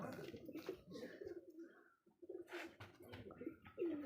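Pigeons coo in soft, repeated rolling calls that sit close and steady, with a person talking over them at times.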